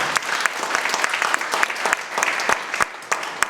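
A forum audience applauds two mayoral candidates, a brisk, steady patter of many hands with occasional sharper claps close by.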